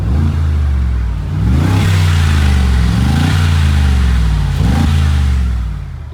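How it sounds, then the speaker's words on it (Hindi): A Mercedes G63 with its stock exhaust and Valvetronic exhaust switched on revs up several times, deep rumbling blips rising and falling over a steady close idle, with no talking. "मैं अभी आपको इसके एग्जॉस्ट के नोट्स सुनाता हूँ। भाई इसमें वेल्वेट्रॉनिक्स वाला एग्जॉस्ट दिया हुआ है।"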